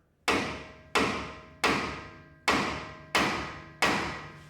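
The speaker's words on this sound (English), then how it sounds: "every now and then give it a smack with a hammer" A hammer strikes a metal part while a 4-inch sport lift kit is being installed. Six sharp, ringing smacks land about every 0.6 seconds, each one trailing off in a metallic decay.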